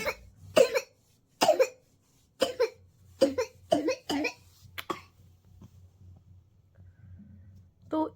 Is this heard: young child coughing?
yes